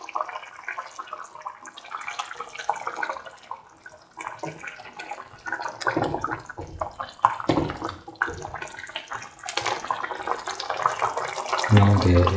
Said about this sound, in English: Let the water boil for 2 to 3 minutes.